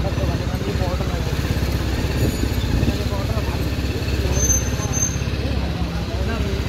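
A motorbike engine rumbles steadily at close range with a low, throbbing drone while a voice talks over it.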